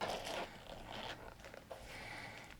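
Handling of a leather zipper pull on a Marc Jacobs bag: soft, close rustling and brief ticking clicks of the metal zip, quiet and intermittent with no talking.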